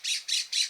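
A bird squawks three times in a row in an outdoor nighttime setting, each call short and shrill at an even pace, fairly faint and heard without any talk.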